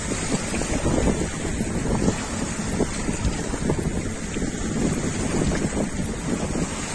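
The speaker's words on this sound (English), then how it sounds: "the wind has picked up a lot, as you can hear" Strong wind roars over choppy water, with steady gusty buffeting and splashing waves throughout, no voices.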